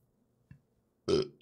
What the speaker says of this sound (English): Anyone is offended by me burping?